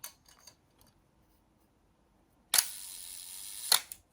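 A cheap film camera with a Leica-style cloth focal-plane shutter fires on a one-second exposure: a sharp mechanical click opens it, a second clack closes it, with faint handling ticks earlier.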